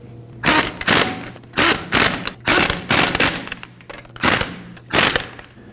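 Ratchet wrench with a 21 mm socket snugging lug bolts on a 2009-2014 Ford F-150, heard as about eight bursts of quick rapid clicking separated by short pauses, close and loud with no talking.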